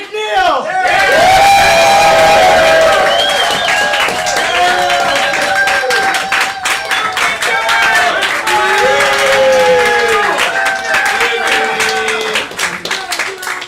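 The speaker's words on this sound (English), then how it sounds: "let's get a massive round of applause Yeah, massive. for Mike McNeil" A comedy-show audience bursts into loud, sustained applause and cheering with whoops and shouts for Mike McNeil, a last-place fantasy football manager doing stand-up, the clapping dense and close throughout.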